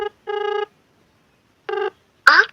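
A telephone call to a blocked number gives two separate electronic call-tone bursts with silence between them, clear and close, before a voice begins at the end.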